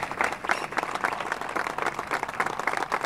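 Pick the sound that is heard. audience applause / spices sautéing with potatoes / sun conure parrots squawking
audience applause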